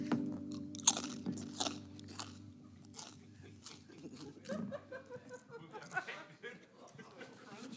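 Communion bread is chewed right up against the microphone during a Sunday church service, with soft, crunchy bites and chewing that come and go, and a few quiet chuckles and voices in the background.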